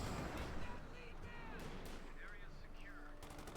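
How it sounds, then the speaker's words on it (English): Howitzer artillery fire in the video game Company of Heroes 2, a dense continuous rumble of booms and battle noise with chirping effects over it, a voice speaking throughout. "Lots of artillery on the field, 2 howitzers and 1 pack howitzer."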